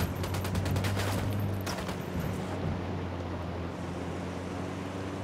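Gunfire in the video game Ghost Recon Wildlands opens with a rapid burst of shots, then fades into a steady, hissing background rumble with no further firing.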